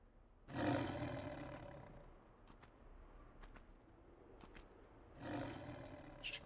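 Lions in the video game Tomb Raider give two deep, rumbling roars, the first long and strong, the second rising near the end, separated by quieter ambience with faint clicks.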